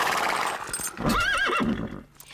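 A cartoon horse, agitated after a long journey, gives a clear rising and falling whinny in a stable box, with a soft hoof shuffle around it.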